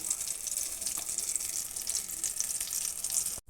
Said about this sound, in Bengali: দেখো আমার ভাজা কিন্তু হয়ে গেছে এখন আমি নামিয়ে নেব